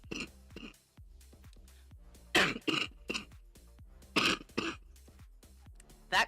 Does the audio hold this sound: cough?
yes